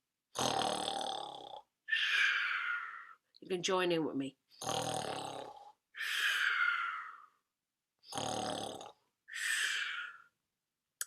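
A voice imitates snoring, making a series of loud, rasping breaths in a steady rhythm with brief pauses, and a few spoken words break in partway through.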